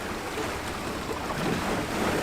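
A sailboat under sail with its engine off, giving a steady wash of water and wind rushing past the hull, broadband and constant without engine hum or voices.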